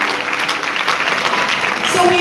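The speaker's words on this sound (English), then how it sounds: "applause for the positive school" Applause from an audience at a jurisprudence symposium, a dense steady patter of many hands filling the room, fairly loud and continuous throughout with some voices mixed underneath.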